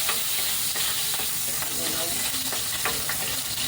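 Ginger sizzling in oil in a frying pan while a home-cooked dish is prepared: a steady, close, continuous frying hiss broken by light scrapes and clicks of stirring, with no talking.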